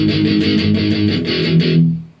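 An electric guitar plays the intro and verse figure of a song as a steady run of strummed, pulsing chords, loud and close, then fading out at the end.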